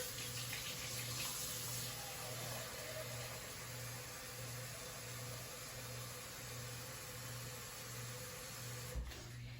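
Warm water for bagel dough runs steadily from a tap into a bowl, a soft continuous hiss and trickle at low level with a faint hum underneath.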